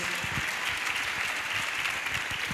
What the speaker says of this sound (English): Please, can you give Mr. Mlatelo Motawe a round of applause?